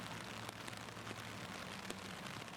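Steady rain patters across a golf course, a soft continuous hiss with scattered drops landing close by and no voices.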